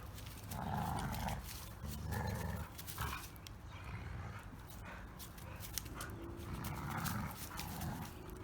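A Dogo Argentino puppy growls and grumbles in bursts during rough play, close and fairly loud, with short pauses between growls and faint whimpers mixed in.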